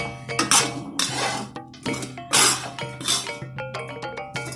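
Fried anchovies and coconut being stirred in a wok, giving repeated scraping and clanking of a metal utensil against the pan in uneven bursts, close and fairly loud with no talk.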